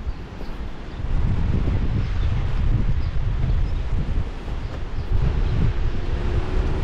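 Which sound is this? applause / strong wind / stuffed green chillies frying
strong wind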